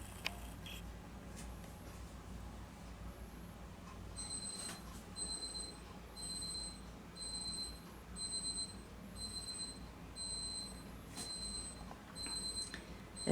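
A kitchen tea timer goes off with a run of evenly spaced high electronic beeps, fairly faint over a steady room hum, repeating in a regular pattern for several seconds.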